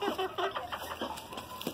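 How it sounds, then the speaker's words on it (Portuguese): A rumpless sura hen, a green-egg-laying bantam, makes a series of soft, quick clucks in a poultry yard, faint and fairly close, with other bird sounds in the background. "linda galinha"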